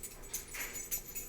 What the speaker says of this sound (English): Sorry about the dog over there.